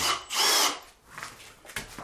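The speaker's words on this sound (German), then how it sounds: "der Erich zieht es hier an" A power drill drives a screw into a wooden ceiling substructure for plasterboard, a short close whirring burst that rises and fades within two seconds, followed by faint rattling.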